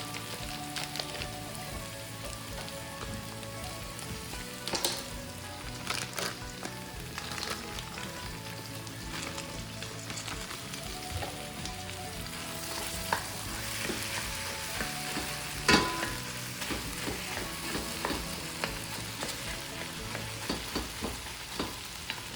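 Two pounds of ground beef fry in a pan with onions and garlic, a dense continuous sizzle and crackle with occasional scraping stirs, steady and close throughout.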